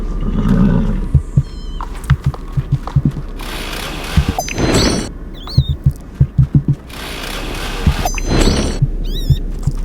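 Hooves clop in quick patters while a horse whinnies and snorts several times, with squeaky synthetic effects mixed in, loud and close, no talking.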